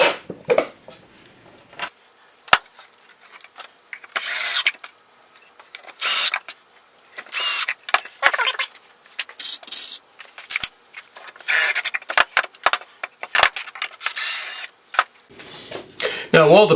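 A power drill drives outdoor screws into the wooden top of a house number sign in short repeated bursts of whirring, separated by pauses and small handling knocks.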